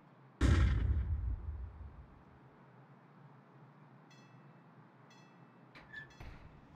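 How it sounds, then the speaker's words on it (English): A flashbang grenade goes off in Counter-Strike 2 with one sharp, loud bang that booms and fades over about a second and a half, followed by faint in-game beeps and clicks. "Deploying flashbang."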